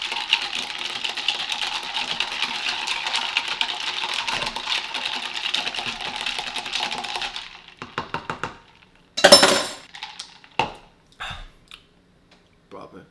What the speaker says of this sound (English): And we stir this up.